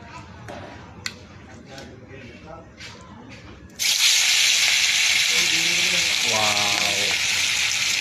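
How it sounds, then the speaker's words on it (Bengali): Fish dropped into hot oil bursts into a loud, steady sizzle and hiss that runs unbroken to the end, with a voice speaking over it and quieter kitchen sounds before the frying starts. "এখন আমি এখানে মাছটা দেব।"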